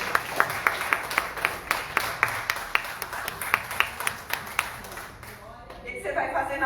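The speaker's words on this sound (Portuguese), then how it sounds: "uma salva de palmas para Jesus" A church congregation claps for Jesus in a steady, rhythmic beat of distinct claps. The clapping fades out after about five seconds as other sounds take over.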